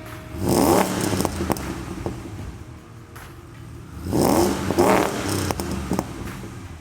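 Chevy truck fitted with an aftermarket header system and Y-pipe exhaust revs in two loud bursts near the start and again around four seconds, settling to a rumbling idle between them, with clattery mechanical texture underneath.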